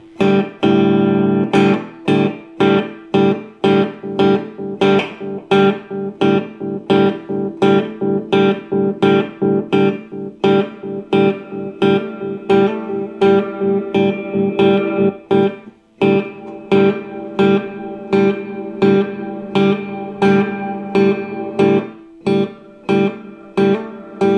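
Electric guitar played through a Yamaha THR10C amplifier with spring reverb, strummed chords in a steady rhythm, each strike ringing out with a wet, spacious tail.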